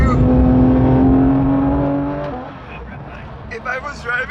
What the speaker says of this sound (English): Sometimes there's cars coming out of here. Yeah, there's cars.